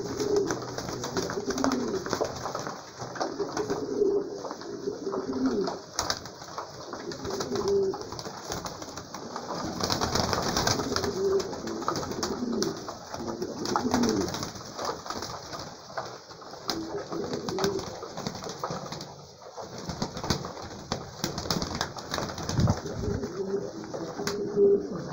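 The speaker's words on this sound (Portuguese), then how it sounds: "Aí ó, tratamento de sexta-feira de manhã dos pombos presos." Captive pigeons coo steadily while feeding, a flock of overlapping low throaty calls that repeats throughout, close and continuous with light rustling.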